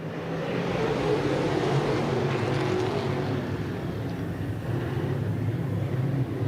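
IMCA late model race cars roar around the Off Road Speedway dirt track, a dense, continuous engine rumble from the pack at a steady distance, with no voices over it.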